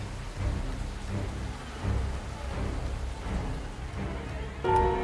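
Rain falls steadily with low thunder rumbling beneath it in the horror video game Fears to Fathom, a constant dense patter throughout, ending with a brief tonal sting near the close.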